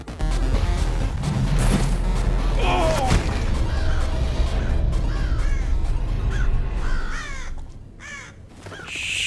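A crow caws repeatedly in the Thief (2014) game, loud and close, several harsh calls over a bed of ambient noise and a few clattering knocks.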